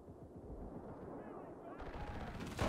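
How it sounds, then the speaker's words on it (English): Artillery explosions and gunfire from the World War II shooter Enlisted, with dense, rumbling battle noise throughout that swells louder near the end under faint game sounds. "Here comes the artillery."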